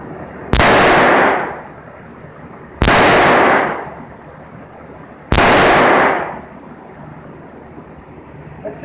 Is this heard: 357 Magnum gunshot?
yes